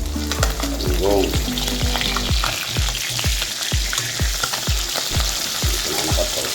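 Galunggong fish frying in a pan, a loud, close sizzle with a steady run of sharp crackles and pops, with no talking.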